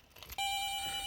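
After a soft rustle, a car's steady electronic reminder ringing tone starts abruptly when the key is turned on and holds, clear and fairly close.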